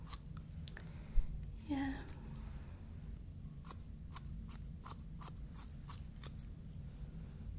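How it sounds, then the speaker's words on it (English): Scissors trim the hair edges during a professional haircut in a series of crisp, close snips, with a soft hum underneath and one brief spoken word. "So I want to just like trim your edges here."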